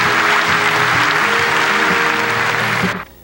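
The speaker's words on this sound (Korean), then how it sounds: "여러분 축하의 박수를 부탁합니다" A 1980s Korean broadcast studio audience applauds the newly crowned 1984 Miss Korea, loud continuous clapping with a faint musical hum underneath, cutting off sharply near the end.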